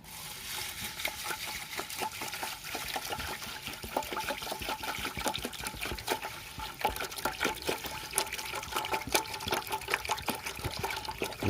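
Liquid poured and stirred into urea fertilizer, making a steady, dense sloshing and splashing wash that continues throughout with no talking.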